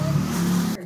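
A jeepney engine revs loudly and close by in a steady low rumble, cutting off abruptly near the end.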